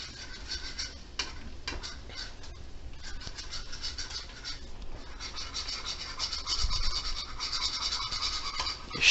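Egg and garlic are mixed by hand for ramen, giving faint, close scratchy patter and quick scraping strokes that repeat irregularly against the dish.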